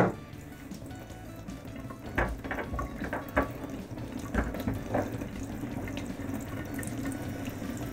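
Warm tap water running into water balloons, a steady gushing stream with splashy bursts and sloshing, moderately close and with no talk.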